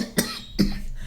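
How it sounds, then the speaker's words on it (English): Two short, sharp coughs in quick succession, close by, followed by a quiet pause. "I don't know why I'm coughing."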